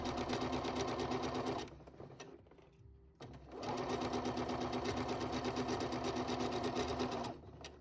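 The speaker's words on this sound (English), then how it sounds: "sew the fold down 1/8 in from the fold" A sewing machine stitches down the fold of a fabric pet bandana in two close, loud, rapid whirring runs separated by a brief pause.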